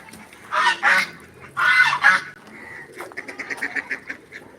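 Loud nasal quacking and honking from ducks close by, two long calls followed by a rapid series of shorter quacks, with no talk.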